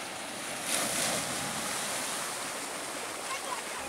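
Continuous roar of high surf breaking on a beach in Aceh Barat Daya, Indonesia, with broad steady wash and a slightly stronger wave swell early on, heard alone.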